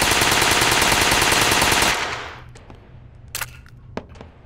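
A nail gun fires in the VR game Gun Club VR as a rapid, loud, evenly spaced mechanical burst for about two seconds, then stops, followed by a few sharp isolated clicks.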